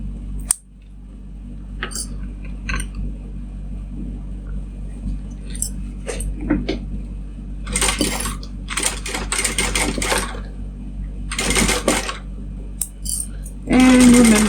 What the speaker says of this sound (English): Okay, I'm going to sew those on. I'm using a stitch length of